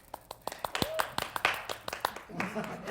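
Audience clapping at a jazz festival tribute concert, scattered claps building into fuller applause while a voice talks over it on stage.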